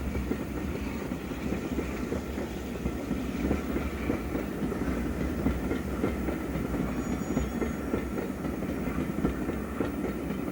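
A Warship class diesel locomotive pulling a stopping train away from a station toward Bristol on a 1950s branch line, a steady rumbling engine with rhythmic wheel clatter, continuous and fairly close.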